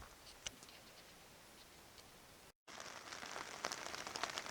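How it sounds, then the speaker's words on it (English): Heavy mid-September rain falling on a Marmot Thor 3 tent on a Boundary Waters camping trip: dense, constant patter with sharper individual drop ticks, briefly cut off, then returning slightly louder. "So this is Friday morning, and pouring down rain."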